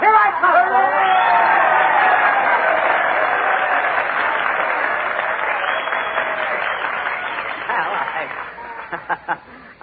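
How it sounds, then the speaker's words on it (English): Audience applause on an old-time radio comedy show with Jack Benny, a loud, dense wash of clapping from a studio crowd mixed with some chatter and chuckles, gradually thinning and fading out near the end. "I'm sure that with a little encouragement and applause, we can get Jack Benny to come up here... and play a violin solo."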